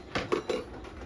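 A spoon handled with a children's lunch box clicks lightly against the plastic, three or four quick, faint taps close by.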